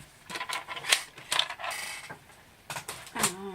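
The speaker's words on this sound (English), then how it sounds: "Put the trimmer away" A paper trimmer being put away after cutting cardstock, giving a few close clacks and scraping knocks with short rattling sounds spaced unevenly, no talking.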